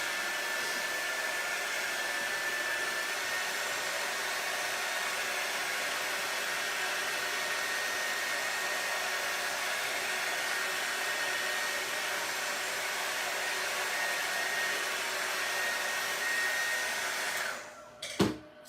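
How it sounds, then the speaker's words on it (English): A handheld hair dryer blows steadily and loudly over a decoupaged oyster shell for about seventeen seconds, then clicks off with a brief clatter at the end. "let me dry this and then we'll do another coat"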